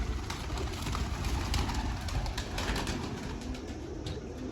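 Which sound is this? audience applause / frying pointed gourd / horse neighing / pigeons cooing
pigeons cooing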